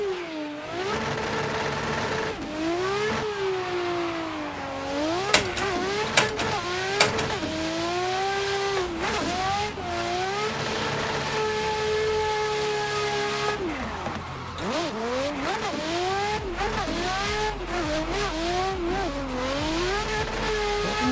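A drift car in a virtual drift racing game roars through a lap, engine revving up and down in swooping surges with tire squeal, loud, continuous and close, with no talk.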